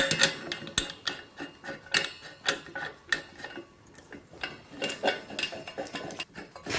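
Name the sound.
attaching gas regulator connector onto welder gas tank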